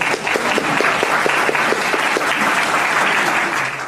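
An audience at a freethought talk breaks into loud, sustained applause, dense clapping filling the room for several seconds.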